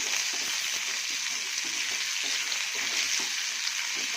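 Chopped onions sauté in a hot pan, giving a loud, steady, close-up sizzle and crackle that runs unbroken throughout with no one speaking.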